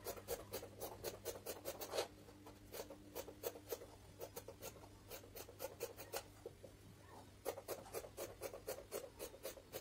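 Scissors snip through dress fabric along drawn pattern lines in quick repeated bursts of crisp cuts, close and clear, with short pauses between runs and no talk.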